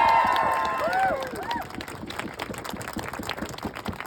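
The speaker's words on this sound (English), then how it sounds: "Can you guys give them all a round of applause" An audience at an International Women's Day closing address applauds; scattered clapping builds into a steady patter of hands, moderately distant, with a brief voice and some crowd murmur near the start.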